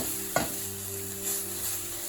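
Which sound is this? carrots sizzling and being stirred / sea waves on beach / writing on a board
carrots sizzling and being stirred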